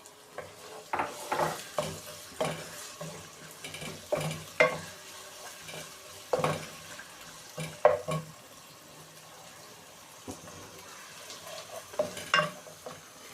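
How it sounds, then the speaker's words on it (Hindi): Onions frying with garlic-ginger paste in a pan for qeema, sizzling steadily while a spoon stirs and scrapes in irregular bursts, close and alone with no talk. "तीन 4 मिनट में प्याज फ्राई हो जाए तो इसके अंदर हम ये लहसुन अदरक का पेस्ट डालेंगे।"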